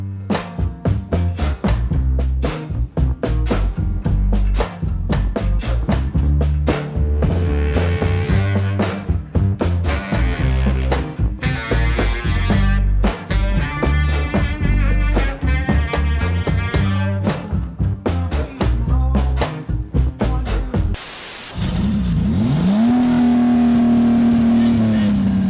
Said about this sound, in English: It actually sounds like a real Lamborghini upon warm-up. And the revs are about as high.